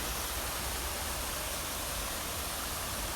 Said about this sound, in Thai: ได้ยินเสียงลำธารนน้ำไหลนะคะ ตลอดแนว